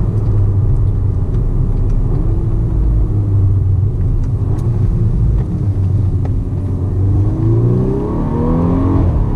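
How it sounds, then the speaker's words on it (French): A Volkswagen car engine idles and revs in a steady low rumble with exhaust crackle, the pitch rising and falling smoothly, loud and close, with no speech. "On entend bien le moteur qui ronronne"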